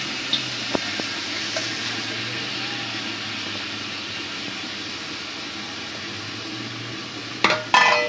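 Washed red lentils and thin-cut stalks fry with spices in a pan, a steady close sizzle running throughout with a few clanks near the end, no talk.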